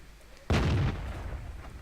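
A single heavy T57 tank cannon shot in World of Tanks, a sharp loud boom followed by a rumbling decay, with no talk.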